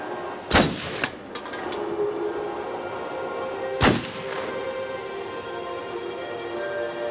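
Gunshots in the horror game Until Dawn: a sharp, loud shot, a quieter second crack soon after, then a gap before another strong report, all over a low ambient hum.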